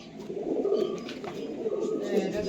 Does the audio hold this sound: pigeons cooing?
yes